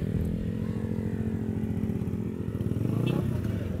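Small motorcycles, a Mio scooter and a Raider, running side by side with a steady rattling engine drone close by, the revving swelling slightly near the end.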